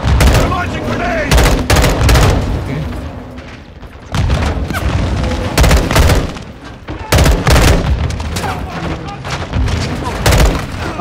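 Grenade launcher blasts and gunfire in Call of Duty Modern Warfare 2, a loud, continuous barrage of booms and rapid shots with several short lulls, while voices talk over the combat.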